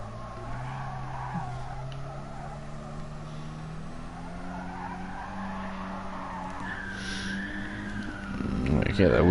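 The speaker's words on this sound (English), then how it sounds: "Get that wheel spin there." A rallycross car in Gran Turismo Sport, engine droning steadily while the tires scrabble and squeal through wheel spin, the engine rising louder toward the end; a voice talks over it at times.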